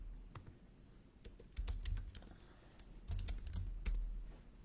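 Someone types briefly on a computer keyboard, close by: a quick run of light clicky keystrokes in a few short bursts over a quiet room.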